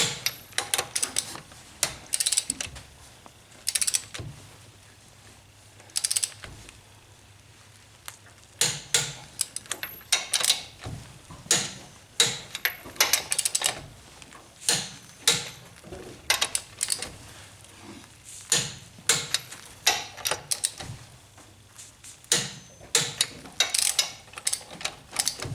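Lug nuts being tightened on the wheel of a 1988 Ford Ranger pickup during a brake pad job: a long run of quick metallic ratchet clicks and taps in irregular bursts, fairly close, with no talk.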